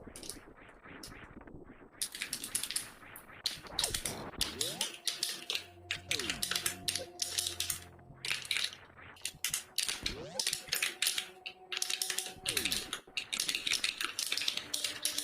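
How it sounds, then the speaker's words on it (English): Rapid clicky button presses on a Wii Pro controller during a Super Metroid speedrun, bursts of sharp taps over game sounds with intermittent tones. "Only you can make that sound like a mechanical keyboard"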